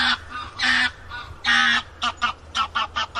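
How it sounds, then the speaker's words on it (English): A noisy goose flying overhead, giving a run of loud honks: a few long calls followed by quicker, shorter ones in a steady rhythm, close and clear with no talk. "like that noisy goose flying by overhead"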